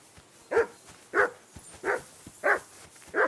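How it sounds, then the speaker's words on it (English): A dog barks in Kingdom Come: Deliverance II, five evenly spaced barks about half a second apart, fairly close and clear with no voices over them. "Jesus, Henry, that barking's driving me nuts."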